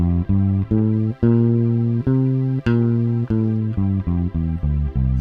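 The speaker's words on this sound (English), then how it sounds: "now for the Mixolydian mode" A sequence of sustained, slightly distorted instrument notes steps through the Mixolydian mode scale one note at a time, loud and even, with no voices.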